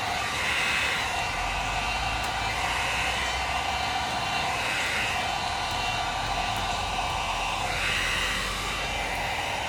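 A heat gun blows steadily and close by as it warms amber tint film being wrapped onto a 2009-2014 Ford F150 headlight lens, a continuous airy roar with no pauses.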